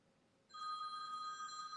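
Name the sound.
mobile phone ringing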